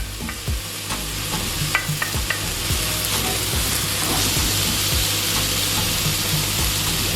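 Carrots stir-frying in a hot pan for chicken chop suey make a steady, close sizzle with a series of sharp scraping clacks from a spatula in the first few seconds, then a smooth, even hiss.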